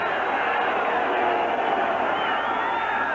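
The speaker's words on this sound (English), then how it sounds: "Noisy crowd." A noisy football stadium crowd at a 1986 Denver Broncos versus New York Jets Monday night game roars in a steady, dense wash of sound, loud and unbroken throughout.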